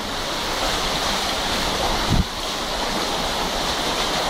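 Floodwater rushing along a street at night during a heavy downpour, a steady broadband roar of flowing water that stays loud and even throughout, with a brief low thump near the middle.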